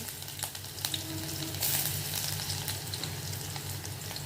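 Finely chopped onions frying in oil in a kadai, a steady close sizzle with faint stirring scrapes throughout.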